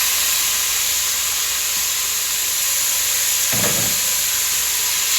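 Drained ground meat and onions hiss and sizzle steadily in a hot pot for taco filling, a broad constant steamy frying noise with a short scrape or clatter near the middle and no talking.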